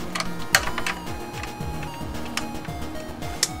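Screws are driven into a PlayStation 2 console with a hard disk fitted, giving repeated small clicks, ticks and scraping turns close up, in an irregular rhythm with occasional sharper taps.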